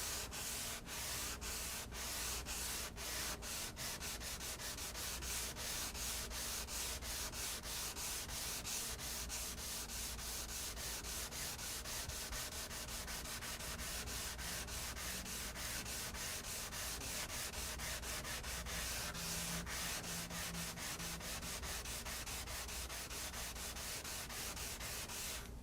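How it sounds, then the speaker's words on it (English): Continuous rapid rubbing as GE Scratch-B-Gone Ultra Shine is worked over a scratch by finger, a dense, even scrubbing texture sustained at a steady level with no talk. "Distribute the Ultra Shine with your finger, and then we're going to remove this scratch."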